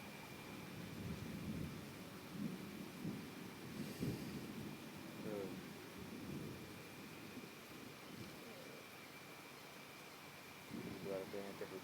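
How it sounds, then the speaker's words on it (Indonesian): Heavy rain pours steadily over a rural village during a thunderstorm, with a continuous dense roar, a rumble of thunder near the middle and quiet talk audible beneath the downpour. "Hujan ini mah hujan, pisan hujan."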